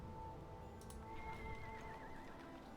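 A horse whinnies briefly in the strategy game Anno 1701, a faint wavering call rising over low, steady game ambience, heard once with no talking.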